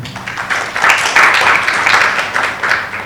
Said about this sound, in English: Give a clap to him.